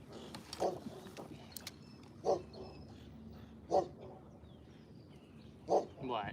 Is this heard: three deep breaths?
no